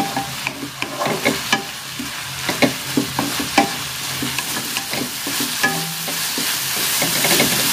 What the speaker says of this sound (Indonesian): Diaduk-aduk sampai bumbu merata.